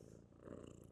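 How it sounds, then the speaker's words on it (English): A cat purring right up against a microphone, a steady, close, rumbling purr with rapid pulsing that lasts under a second, with no talking. "Can you hear her purring?"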